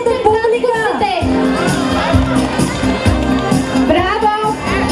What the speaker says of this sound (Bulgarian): Аплодисменти за татковците!